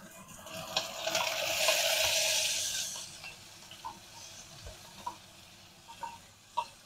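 Onions frying in a little oil in a pan for a village-style mutton curry, a loud hissing sizzle as they hit the oil, fading to a quieter fry with scattered spoon scrapes and knocks nearby.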